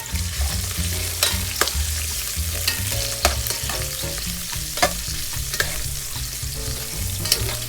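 Ginger and garlic sauté in a pan for arroz caldo, a steady close sizzle with frequent clacks and scrapes of a utensil stirring, no talking.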